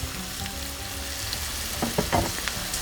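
A pointed gourd and potato curry sizzles in a pan over medium-high heat, a close, steady frying hiss with a few stirring scrapes near the end.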